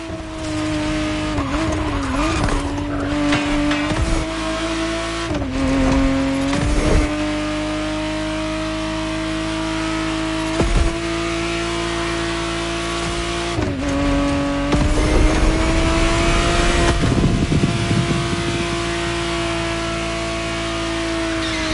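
A 1991 Ferrari Testarossa 512 TR in The Crew Motorfest drives hard. Its engine drones steadily and climbs through repeated gear shifts, with tire squeals and skids breaking in along the way, alone and loud throughout.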